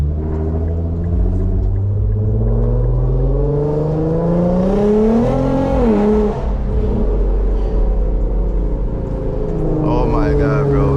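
A 400whp Infiniti Q50 pulls hard at night, its loud exhaust droning and rising in pitch through the gears, with deep steady engine rumble filling the whole stretch close to the car.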